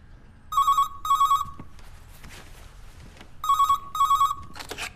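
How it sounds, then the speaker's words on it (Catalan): A landline telephone rings twice in paired electronic trills, each ring a short double burst with a gap between, clear and close over a faint room hum, with no voices. "Llavors va sonar el telèfon fix"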